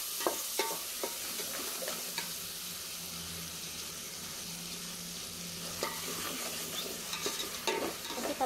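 Onion, garlic and ginger fry in a pan, a continuous close sizzle broken by scraping stirring strokes and light clatters, with no talking.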